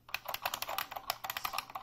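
Typing on a Unicomp Ultra Classic buckling spring keyboard, a quick run of sharp, loud clicky keystrokes in an uneven rhythm, heard up close with nothing else around them.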